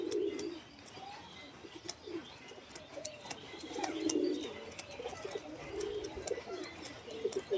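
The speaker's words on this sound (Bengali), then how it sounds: "খুব ছটপটে পায়রা, খুব ছটপটে, এত ছটপটে পায়রা" Restless pigeons coo repeatedly at close range, soft throaty calls recurring every second or two over faint chirps and sharp clicking taps in the background.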